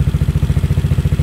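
A Honda ADV 150 scooter with a DCR cam installed idles steadily after warming up, its engine giving a loud, even, rapid low putter that pulses regularly with no talk over it.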